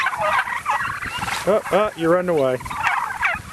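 A Narragansett turkey hen gobbles and calls at a turkey ranch, a short burst of rising, warbling yelps midway, close and clear, with a person speaking briefly nearby.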